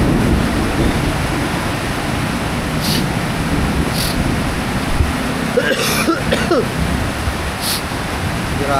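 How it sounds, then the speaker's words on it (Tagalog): Heavy rain pours steadily near a hut, a dense, even broadband roar filling the whole stretch, with a few brief clatters and a cough-like noise near the middle. "Grabeng ulan."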